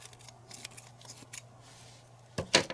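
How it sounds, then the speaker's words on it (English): Scissors snip through crochet yarn with one quick, close double-clicking cut near the end, after soft rustling handling noises. "cut the yarn"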